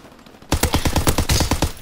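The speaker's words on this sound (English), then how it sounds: "They always make those headshots sound extra nice." Rapid automatic gunfire from a Call of Duty match, a loud close burst of repeated shots that starts abruptly after a quiet half second and rattles on without a break.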